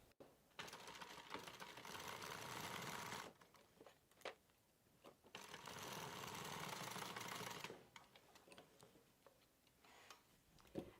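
A sewing machine stitches a bag piece in two continuous bursts of a few seconds each, separated by quieter handling clicks, heard close.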